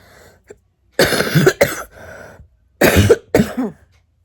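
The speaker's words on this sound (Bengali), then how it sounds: "এত পরিমাণে কাশি হচ্ছে" Two harsh bursts of coughing, each a quick pair of hacking coughs, close and loud, separated by a short pause with a faint throat sound.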